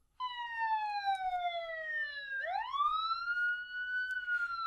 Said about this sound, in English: If you have ever heard an emergency vehicle with their siren active, you may have noticed that the pitch of the siren has changed